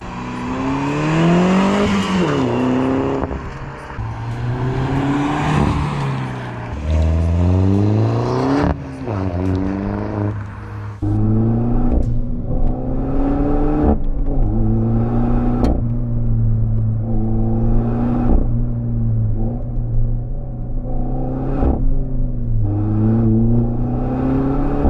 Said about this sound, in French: j'ai mis un silencieux tube Inoxcar qui permet d'avoir un son un peu plus sympathique pour une GTI